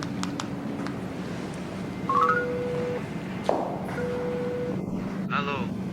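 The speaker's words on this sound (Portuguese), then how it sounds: "Doutor, vou ligar para saber quando os outros vão chegar." Telephone dialing tones sound in short beeps, followed by a few steady held tones and a brief rising trill, over a constant low background rumble with speech nearby.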